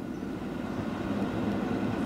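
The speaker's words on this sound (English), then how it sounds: "My tram had switched tracks at its terminus and was now on its way back to the city centre" A Budapest tram rolling along its tracks back toward the city centre, a steady low rumble and rattle of wheels on rail, heard continuously from on board with no voices.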